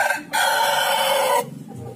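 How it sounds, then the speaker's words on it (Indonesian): A toy rooster gives a loud electronic cock-a-doodle-doo crow, one sustained call standing alone, then quieter background noise follows. "ini ada ayam jago"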